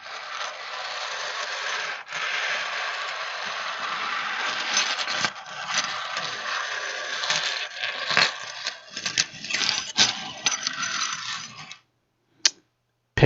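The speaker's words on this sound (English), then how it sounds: "Anyway, some metal coin. Metal scraping." A metal coin scrapes and rasps against a surface in a steady gritty run, then breaks into irregular scratchy strokes and a few sharp clicks before going quiet, loud and close with no speech.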